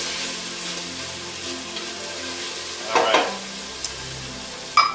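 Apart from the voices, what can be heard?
stirring chopped vegetables into white bean chicken chili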